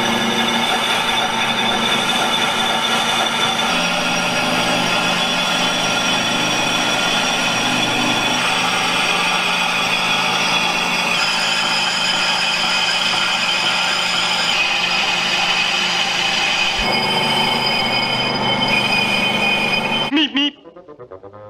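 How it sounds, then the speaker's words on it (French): A Renault 4L engine flywheel being machined on a lathe, a loud continuous whirring and ringing drone with shifting tones that runs steadily before cutting off abruptly near the end. "on est en train d'usiner le volant moteur"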